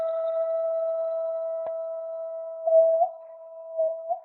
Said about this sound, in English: This is called a vibratone